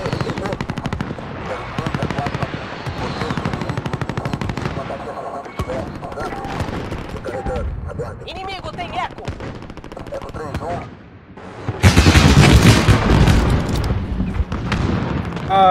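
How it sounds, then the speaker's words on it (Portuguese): A precision airstrike lands in a first-person shooter video game. Dense gunfire crackles throughout, then a loud burst of explosions roars in near the end. "Ataque aéreo de precisão a caminho."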